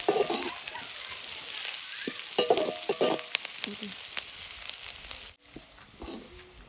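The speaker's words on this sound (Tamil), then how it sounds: "நல்லா வதங்கட்டும்" Ingredients sizzle and fry in a pan, a steady close crackle with scraping stirs and utensil knocks, continuous for several seconds before dipping briefly and resuming.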